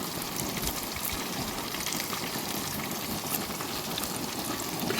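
Green chillies and curry leaves fry in hot oil in a pan while a mutton dish is cooked, giving a steady, even sizzle and crackle that runs throughout with no talk.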